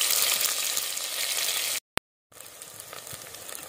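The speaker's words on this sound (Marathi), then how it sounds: "मिरची आणि कांदा चांगला परतून घेऊ" Onion and green chili sizzle and crackle in hot oil with mustard seeds and cumin, a loud steady frying hiss that cuts out briefly after a click, then resumes.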